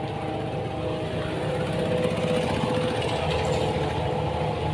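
Cummins four-cylinder direct-injection diesel engine in a CMG XS123PD road roller, idling with a steady, loud, low rumble throughout and no talk.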